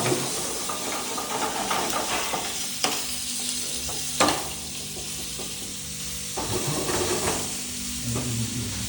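Chicken pieces sizzle steadily on a hot tawa griddle while being stirred, with loud scrapes and clanks of a spatula against the pan over the constant frying hiss.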